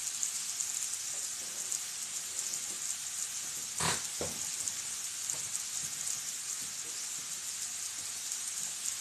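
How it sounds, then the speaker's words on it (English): Bacon sizzles and crackles in a pan with a constant hiss, a couple of louder pops standing out midway. "she could only hear sizzling bacon"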